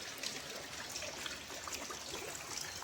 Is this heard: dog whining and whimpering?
no